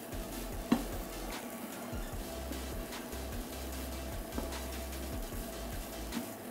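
Stir fry cooks in a Tefal pan, a steady soft sizzle with occasional scraping stirs and light clicks of a utensil against the pan, moderately close, with no talking.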